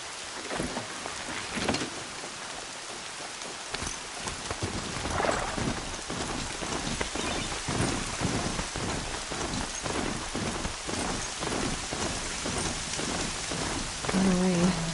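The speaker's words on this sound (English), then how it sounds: "Gonna rain. My boots will get damp." Steady rain falling in the game Horizon Zero Dawn, a continuous hiss of drops on surfaces with scattered heavier patters and a faint low rumble, heard alone without talk.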